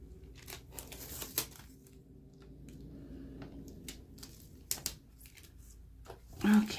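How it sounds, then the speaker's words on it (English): Sharp, intermittent ripping and crinkling of tape pulled off a roll while covering a DIY paper cash envelope, close and fairly quiet, in several short bursts with pauses between. "we're just gonna repeat the same steps of pulling tape and covering it over"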